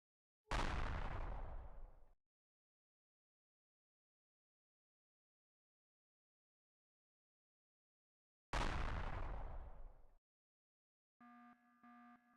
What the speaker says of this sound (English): Where was that gun even shooting, dude?